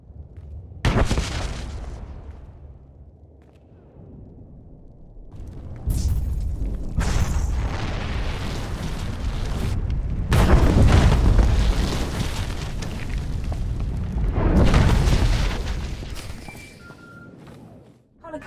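A Star Wars: The Old Republic cutscene carries a detonator explosion: several heavy booms and rumbling blasts rise and fall across the stretch, loud and close, with quieter gaps of debris and ambience between them.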